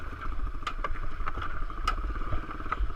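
A small pit bike engine runs unevenly, a close low chugging idle with a rough, pulsing rhythm and occasional sharper pops and stumbles.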